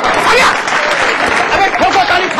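An audience at a live Hindi television stage show claps in a dense, steady burst of applause, with voices calling out over the clapping throughout.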